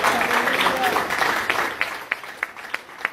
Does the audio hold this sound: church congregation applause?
yes